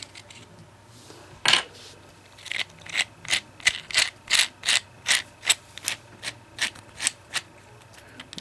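A grub screw is backed out of a Kraton spur gear with a hand tool, a rapid series of close, crisp ratcheting clicks in a steady rhythm, roughly a dozen, after one louder initial clack.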